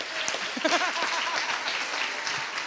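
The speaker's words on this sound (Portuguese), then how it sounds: "Vamos aplaudir Jesus" A church congregation applauds during a celebration service, continuous clapping blended with cheering voices and some speech underneath.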